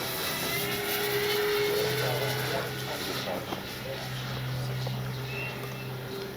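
A 1600mm Flightline P-51D Mustang radio-controlled model plane drones overhead with a steady electric whine and hum, fairly loud and even, easing slightly midway as it flies past during landing approach.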